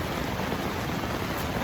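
Rain beats on a tent pitched beside a flooded river in Maine in August, a steady, even hiss of drops with no talking.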